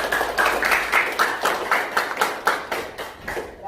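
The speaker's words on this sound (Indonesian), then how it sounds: "Beri tepuk tangan untuk teman kalian." A small group of students in a school classroom claps for a classmate, a brisk run of about a dozen distinct hand claps that gradually thins and fades out.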